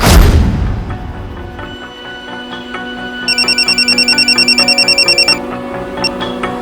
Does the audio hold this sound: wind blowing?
no